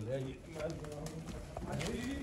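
Pigeons coo softly in low, rolling murmurs, mixed with people talking nearby.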